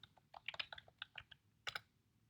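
Quick bursts of keystrokes on a computer keyboard, close and moderately loud, in short irregular clusters with brief pauses, ending in one final flurry; no voices.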